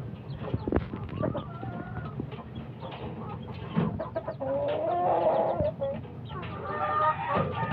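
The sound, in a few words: gamefowl chickens clucking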